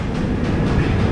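The Konark Express rumbles out of Visakhapatnam station, a loud, dense, steady roar of wheels and carriages heard close up from on board, with no voices over it.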